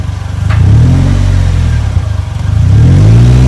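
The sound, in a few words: Polaris Slingshot engine revving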